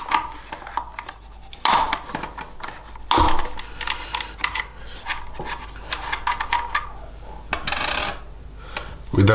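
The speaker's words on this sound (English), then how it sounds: "We then need to remove these two nuts" A 10mm socket removes two nuts from a 2019 Yamaha Tenere 700, heard as steady close ratcheting and scraping with a couple of sharper metallic knocks between.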